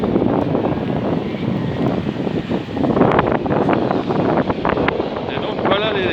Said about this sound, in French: il y a beaucoup de vent, comme vous pouvez le constater.